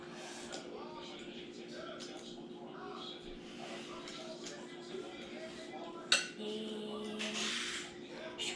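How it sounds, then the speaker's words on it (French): A utensil stirs and scrapes ingredients into a paste in a bowl, steady clinking and rubbing throughout with one sharper knock partway through, close and fairly loud. "Maintenant, avec le bout ici, je vais tout mélanger jusqu'à ce que ça devienne genre une espèce de pâte"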